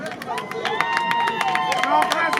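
Scattered applause from an audience crackles under someone speaking over a microphone, irregular claps continuing throughout.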